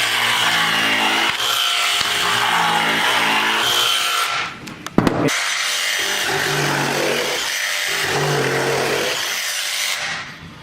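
Dewalt and Milwaukee jigsaws cutting wood at speed buzz loudly in two long continuous runs, the blade rasping steadily, broken by a brief pause with a few sharp knocks in the middle.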